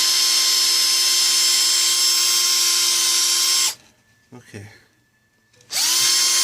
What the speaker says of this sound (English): I'm gonna have to drill this a little bit bigger